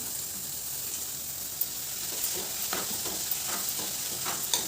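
Sprouted moth beans are stir-fried in a spicy masala, a soft steady sizzle punctuated by several distinct spoon-scraping strokes against the pan, close and fairly quiet, with no speech.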